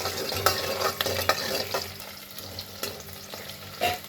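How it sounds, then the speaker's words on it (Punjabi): Onions fry in a hot pan while a spoon stirs them, giving a soft close sizzle under repeated scraping strokes, busier at first and then easing off. "ਹੁਣ ਆਪਾਂ ਇਹਦੇ ਵਿੱਚ ਪਿਆਜ਼ ਫਰਾਈ ਕਰਾਂਗੇ 2 ਮਿੰਟ ਵਾਸਤੇ"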